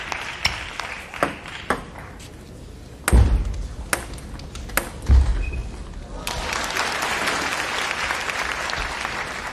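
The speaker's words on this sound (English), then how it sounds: "the home crowd encouraging Koki NIWA" Home crowd at a table tennis match between Ma Long and Koki Niwa, cheering and clapping in swelling bursts between sharp pings of the ball and a couple of loud thuds, building into sustained applause toward the end.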